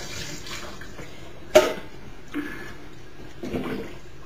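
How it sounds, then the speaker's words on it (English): Cooking water drained off cooked Polish sausage into a sink, a faint steady wash of pouring liquid with a sharp clunk early on and a couple of softer splashy swells afterward. "First I'll drain the Polish sausage."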